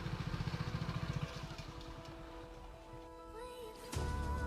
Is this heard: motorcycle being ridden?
yes